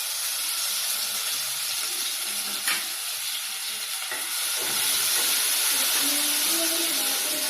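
Ginger-garlic paste sizzles and hisses in hot oil for chilli paneer, a steady loud frying crackle with a faint stir partway through and the sizzle swelling toward the end; no one talks.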